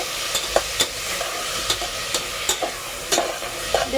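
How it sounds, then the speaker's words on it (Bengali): Potato curry frying in a pan is stirred steadily, with a constant close sizzle broken by scattered light clicks and scrapes of the spoon against the pan. "ভালো করে নেড়ে দেওয়া হলো"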